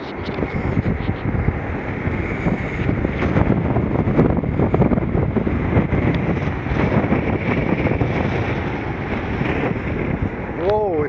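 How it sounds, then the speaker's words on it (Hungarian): Steady wind roars and buffets across an open ship deck, a continuous rushing noise with gusty swells throughout, plus a brief whistling tone near the end. "Na itt már jobb a szélfújás. Kicsit hallani jobban."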